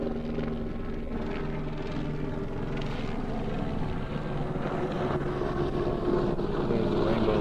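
A helicopter near Honolulu airport drones overhead with a steady, throbbing rotor hum at moderate distance, holding a fairly constant level throughout.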